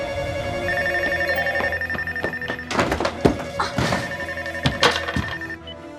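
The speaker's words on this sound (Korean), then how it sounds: "신혜가 집에 들어가자마자 전화가 오는 장면이 또 있어요." A telephone rings with a repeating electronic tone in a scene from the film Secret Sunshine, then a few loud knocks and thuds break in as the ringing stops.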